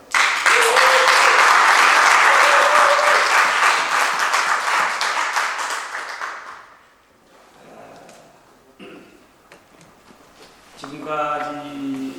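Loud, dense applause from a church prayer-meeting congregation honoring the chairman and officers of the New York Hallelujah crusade committee, sustained for about six seconds before fading into quieter room sounds and a voice at the end.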